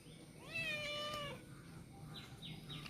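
A cat lets out one clear, drawn-out meow close by, followed by softer, fainter chirping calls.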